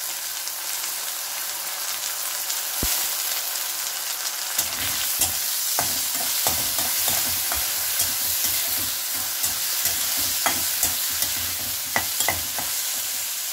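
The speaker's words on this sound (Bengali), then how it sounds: "চালটা এবার ভালো করে ভেজে নেব।" Soaked rice is fried and stirred in a pan: a steady sizzle with repeated scraping strokes of a utensil, which grow busier partway through. Close and fairly loud, with no talk.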